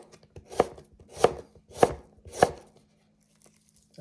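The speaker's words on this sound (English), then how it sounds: "When you're cutting like the onions, you want to use this part of your knife." A chef's knife chops food on a flat cutting board, four crisp, evenly spaced strikes about half a second apart, close and clear, then quiet.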